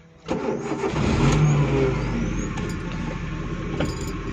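A car engine cranks briefly and fires up, then settles into a steady, close idling rumble during a first-day driving lesson.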